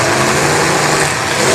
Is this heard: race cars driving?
yes